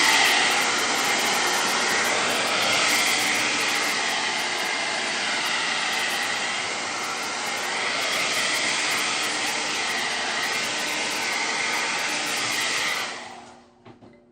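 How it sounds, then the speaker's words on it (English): A blow dryer runs to dry stencil paint on DIY home decor, a loud, steady airy whoosh held near and constant for about thirteen seconds before it switches off and quickly fades. "gonna get the blow dryer going."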